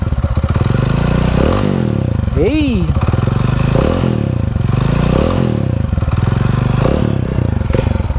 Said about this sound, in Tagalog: Ipaparinig ko sa inyo yung sounds ng stock pipe.